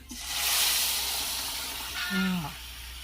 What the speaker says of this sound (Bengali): রসুন পেঁয়াজটা একটু পোড়া পোড়া ভাব হয়েছে, এখন ডালটাকে এটাকে ঢেলে দিবে।